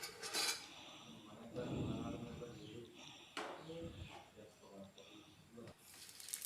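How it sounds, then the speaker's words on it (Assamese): A spoon stirs bay leaves and cinnamon in a cooking pot for chicken pulao, giving soft scraping and light metal clinks over a faint hiss. A quiet voice talks over part of it. "এইখিনি অকণমান লৰাই দিছোঁ।"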